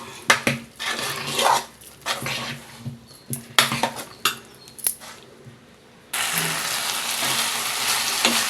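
Cooked rice is stirred and scraped in a pressure cooker, giving a series of short, fairly close spoon and metal clinks and scrapes that end in a steadier, hissing noise.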